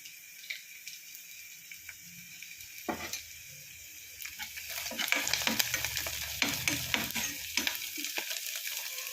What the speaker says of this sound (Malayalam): നമുക്ക് ഇച്ചിരി കരിവേപ്പില അങ്ങ് ഇട്ട് കൊടുക്കാം അതിൻ്റെ കൂടെ തന്നെ